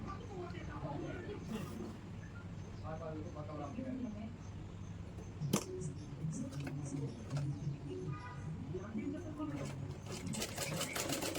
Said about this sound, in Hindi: देख सकते हैं आप, मशीन लग रही हुई है।